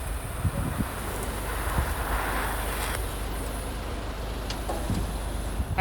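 Wind blowing outdoors at a welding job site, a steady low rushing buffet on the microphone with faint gusts and no speech.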